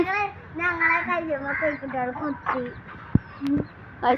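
Backyard chickens cluck and squawk close by near a small coop, in short bursts mixed with a voice and nearby chatter.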